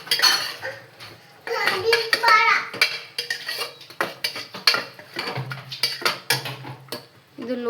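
A spoon mixes fried onion with chili, turmeric and garam masala in a pan, making repeated metallic clinks and scrapes close by. A voice speaks intermittently in the background.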